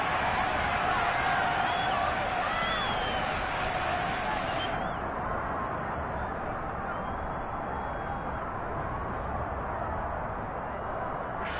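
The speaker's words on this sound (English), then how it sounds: "Plenty of shouts from this crowd as they watch the replay" Crowd at a Jacksonville football game shouting while watching a replay, a broad, steady roar of many voices with scattered louder yells, continuous and fairly distant.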